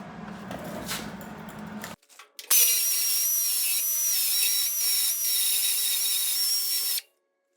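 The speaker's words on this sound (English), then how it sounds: "Welded and ground down." An angle grinder works steel on the bed of a 1973-79 Ford F-100 during a long-to-short bed conversion: a steady, loud, high-pitched whine running continuously for about four and a half seconds after a brief lower-pitched burst and pause.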